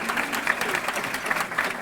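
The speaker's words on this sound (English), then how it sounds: "Let's give them all a round of applause, bigger applause." A crowd claps for the organizers and helpers at a Bags, Bling & Bubbly event, with steady, moderately loud applause and a few sharper individual claps standing out.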